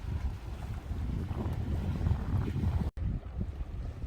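Wind gusts steadily over open water at a mullet fishing spot, a continuous broad rushing roar with low buffeting rumble against the microphone, briefly cutting out near the end before resuming.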